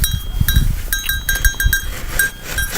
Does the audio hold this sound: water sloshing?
no